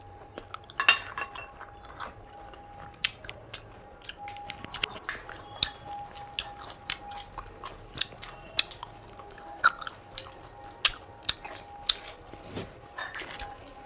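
Someone eats chicken with rice at close range during an eating show, with irregular wet chewing and bites and frequent clinks of utensils against a plate, and a quiet steady tone in the background.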